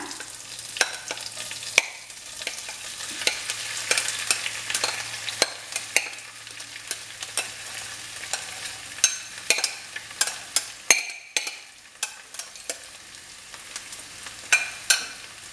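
Boiled potatoes sizzle steadily in a hot pan while a utensil scrapes and knocks against it in irregular, sharp strokes, close and fairly loud, with no voices.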